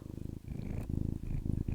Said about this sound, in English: Let's see if I can get his purr on camera.